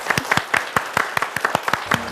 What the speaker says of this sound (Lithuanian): Dar sykį plojimai